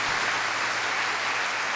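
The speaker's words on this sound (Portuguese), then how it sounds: "Vamos aplaudi-lo, acolhê-lo aqui com uma salva de palmas" A church congregation at São Miguel Arcanjo parish in Teresina, Piauí, gives a visiting priest a warm round of applause: dense, continuous clapping from a large crowd that fills the space evenly, with no voices over it.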